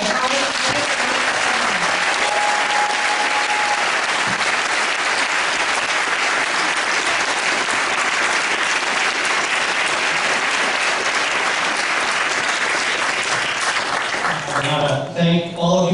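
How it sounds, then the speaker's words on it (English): Town hall audience giving a congressman sustained, loud applause, a dense, continuous roar of many hands that carries on steadily before easing off near the end as a voice starts to speak. "let's give him a big round of applause."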